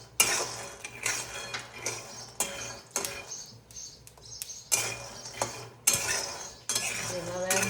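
Peanuts roasting in a pan for chikki are stirred with a metal spoon, giving repeated scraping clinks and rattles against the pan in uneven bursts, close and moderately loud.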